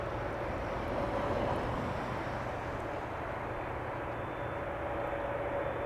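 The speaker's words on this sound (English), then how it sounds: "I'm hearing something sounding like GE90s spooling up" Jet engines spool up at Schiphol Airport, GE90s on a large airliner, as a steady, loud broadband roar with a faint whine that holds without pause throughout.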